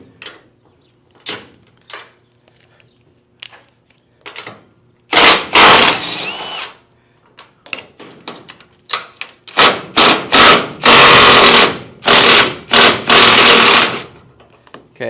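A power tool buzzes a lock nut off a bolt while work goes on to fit a new aluminum door on a car hauler, loud close bursts of whirring and rattling, several short runs, broken by quieter clicks and knocks.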